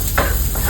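Red onions and ginger sauté in a pan for tinola soup, a short close burst of sizzling with a stirring scrape through the hiss.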